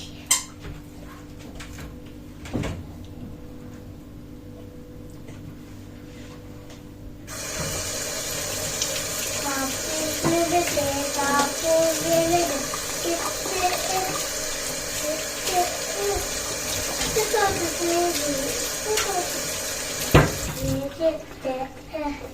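Roasted pepper pieces washed under a running kitchen tap, a steady close splash of water lasting over ten seconds, preceded by quieter household sounds and faint voices.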